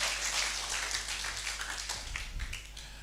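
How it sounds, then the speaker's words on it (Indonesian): Church congregation applauding together, a broad wash of many hands clapping at steady loudness throughout, with a few heavier claps near the end. "Kasih tepuk tangan yang dahsyat buat Tuhan."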